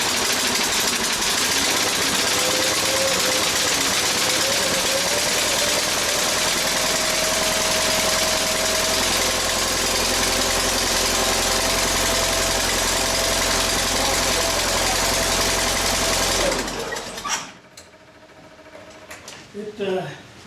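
A Bobcat 632 skid steer engine running after a blow-by repair, a loud steady idling drone with a rhythmic mechanical clatter that cuts off abruptly near the end, leaving quieter background noise.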